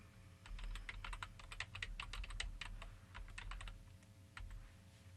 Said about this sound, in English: we're going to type an email address in here